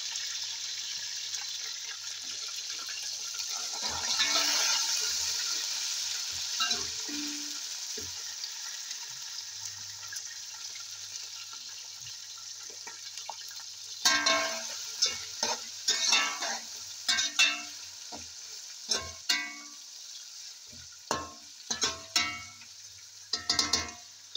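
Green beans tossed into a pan of browned onion and garlic, sizzling and frying steadily while a spatula scrapes and clatters in quick bursts of stirring, close and fairly loud, with no voices.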